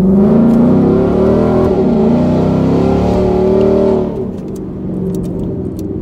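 A Mustang GT with cat deletes and a Corsa Xtreme exhaust cruises at highway speed, its loud, steady engine drone holding for about four seconds before easing off as the car lifts off the throttle.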